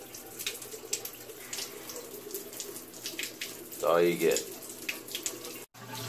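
Water runs from a tap in a steady hiss, with a louder gush midway and a brief cutoff near the end, while people talk nearby.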